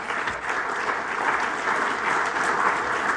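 A meeting audience at an annual parks chamber gathering applauds in a sustained, even burst of many hands clapping, steady and fairly close for the whole stretch.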